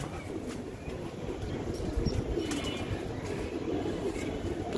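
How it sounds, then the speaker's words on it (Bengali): A pair of Sapchila pigeons, an old-blood flying breed, coo faintly with soft wing flaps amid a low, steady background hum. "এখানে একজোড়া সাপচিলা কবুতর"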